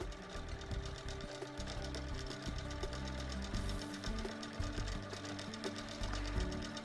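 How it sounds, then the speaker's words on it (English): A Babylock sewing machine stitches a quilt binding with a steady, fast mechanical whir and rapid needle chatter running continuously and close by, with no talking. "As you're stitching, stay within your binding area, so within 1/4 inch of the edge."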